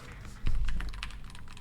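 Short burst of clacky keystrokes on a newly unboxed computer keyboard, several quick taps close up, one louder thud early on and lighter clicks following.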